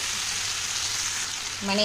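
A paste of mustard, radhuni and ginger sizzles in hot oil for shukto, giving a soft continuous hiss, and a voice begins speaking at the very end.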